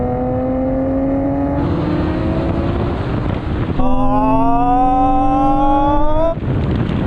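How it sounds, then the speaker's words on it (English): Nissan GT-R engines roar steadily at high revs in a rolling race from 30 mph in second gear, pitch climbing through the gears with a brief drop at a shift, loud and close with wind buffeting the microphone. "Now we can have a rolling race from 30 miles an hour with the cars in second gear."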